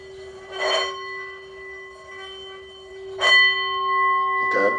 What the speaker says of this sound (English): you can even do the singing bowls